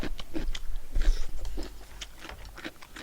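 Crunchy chewing of kkakdugi, cubed radish kimchi, during a home-meal mukbang: close, moist bites and crunches in an irregular rhythm with no talking.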